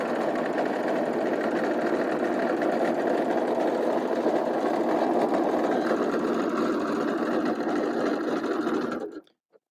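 A sewing machine stitches fabric at a 3/8 inch seam allowance, running in a steady, fast, continuous whir close to the microphone for about nine seconds before stopping abruptly.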